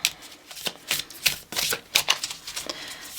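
Oracle cards being shuffled by hand, a run of crisp, papery riffles and slaps in quick irregular bursts, close and fairly quiet with no talking.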